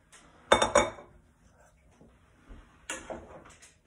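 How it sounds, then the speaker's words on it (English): Metal pot clanks and utensil clinks as cooked pasta is combined with cheese sauce, two clustered bursts of knocking and scraping near the mic separated by a quiet pause. "So we've got our pasta, and we are going to combine that with our cheese sauce."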